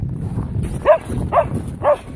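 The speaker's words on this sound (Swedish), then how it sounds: "Nu skäller hon." A dog barks three times at an even pace, short and fairly close, over a low rumbling background.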